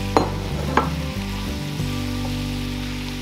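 Chunks of butternut squash go into a hot pan for a pasta bake and sizzle loudly, with a couple of sharp clatters as they land and are stirred, close up and without talk.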